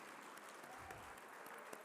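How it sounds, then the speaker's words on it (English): Gala audience applauding government honorees at the Utah Business 2022 Living Color Gala, a brief stretch of steady, fairly faint clapping from a crowd in a large room. "Let's give one more big round of applause for our government honorees."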